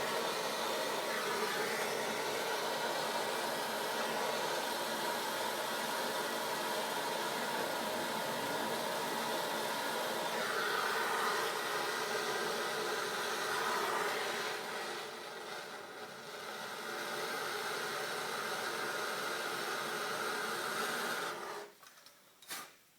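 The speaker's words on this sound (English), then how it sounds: "the old propane torch to get everything all nice and hot" Propane torch heating a seized bleeder screw and brake flare nut on a 2002 Subaru Impreza WRX, a steady close roaring hiss that runs almost without break, dipping briefly and cutting off at the end.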